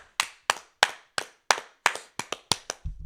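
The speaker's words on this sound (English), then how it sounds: "We'll go ahead and clap it up really quick" About a dozen sharp hand claps from a single person ring out close and dry in a quick, slightly uneven rhythm, each crisp and isolated against silence.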